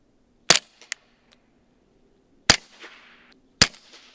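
.40 caliber pistol shots fired through a Dead Air Primal suppressor, three sharp close reports spaced over a few seconds with brief echoing tails and a faint metallic click between.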